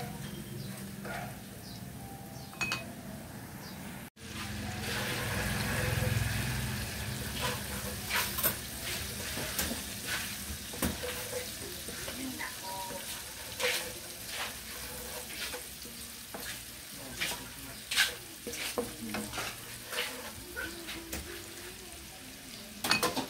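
Garlic frying in oil for garlic chicken oil, a steady close sizzle and crackle lasting throughout, with scattered pops and occasional stirring clatter.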